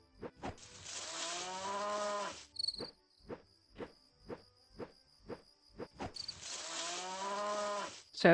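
Cows moo in the farming game My Time at Portia: two long, loud, close moos open and close the stretch, with a chirping insect or cricket ambience and evenly spaced clicks in between, no talk.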